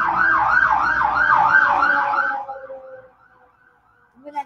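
An emergency vehicle siren, an ambulance or fire truck, wails in a repeating rising and falling pattern as it passes, loud at first and then fading into the distance.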